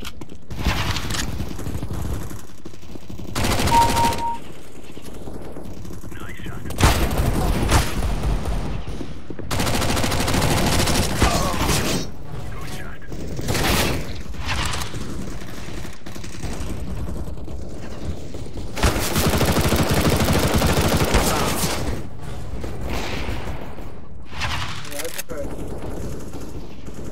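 In the shooter game CS GO, a submachine gun fires in repeated loud, rapid automatic bursts with brief gaps between volleys. Game sounds and a voice talking are also heard.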